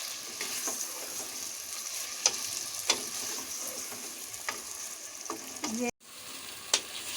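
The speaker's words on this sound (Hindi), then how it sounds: "आलू और चिकन जो है वो बड़ी अच्छी सी खुशबू के साथ फ्राई हो रहा है" Potato and chicken pieces fry with cumin in a pan, giving a continuous bright sizzle broken by occasional spatula taps and one brief cutout; a single short spoken word is heard.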